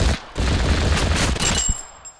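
Minigun fire in a video game, a rapid sustained burst of gunshots after a short opening shot, rattling loudly for over a second before cutting off abruptly.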